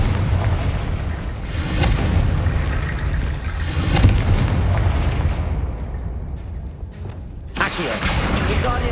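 Fiery spell explosions from the Confringo curse in Hogwarts Legacy on PS5 land as repeated deep booms with rumbling blasts over a loud combat bed, easing to a quieter lull before another burst near the end.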